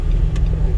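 A car engine runs steadily at close range with a low, continuous hum as it pulls away in first gear during a driving lesson, a short mechanical tick rising briefly over the drone.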